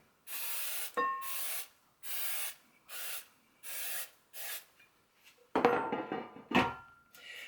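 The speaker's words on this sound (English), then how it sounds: "Spray the pan with no stick spray." Six short hissing bursts of nonstick cooking spray in a steady rhythm onto a metal pan, followed by the pan clattering and scraping.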